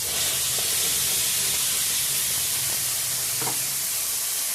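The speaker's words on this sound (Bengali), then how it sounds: "জিরা ফোড়নে দিয়ে দিলাম সিদ্ধ করা আদা টমেটো পেঁয়াজ পেস্ট" Boiled ginger, tomato and onion paste sizzling in hot oil tempered with cumin seeds, a dense continuous frying hiss with faint stirring clinks, close and steady throughout.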